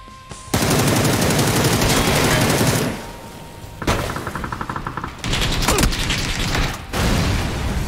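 Automatic weapon fire in the battle royale game PlayerUnknown's Battlegrounds: a loud sustained burst of rapid shots, a short pause, then further crackling bursts and mechanical clicks, close and continuous, with no talking.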